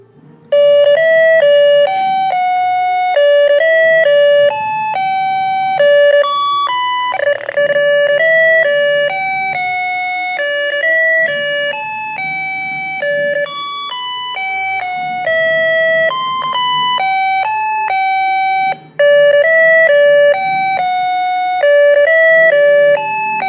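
A snap circuit electronic kit plays a loud, shrill electronic alarm melody of stepped beeping tones. The tune loops continuously with a brief dropout near the end and no voices.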